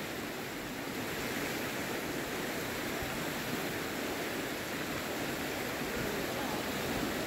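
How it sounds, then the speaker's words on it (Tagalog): A strong river current rushes steadily at a campsite in Chilliwack, British Columbia, a dense, unbroken roar of flowing water that stays loud and constant throughout. "Agos na yan, malakas yan."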